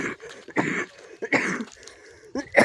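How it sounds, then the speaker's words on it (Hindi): A person outdoors on a farm gives a few rough coughs and throat clears in short bursts across under three seconds, close to the microphone. "थोड़ी बहुत खांसी आई गई है भाई साहब एकदम।"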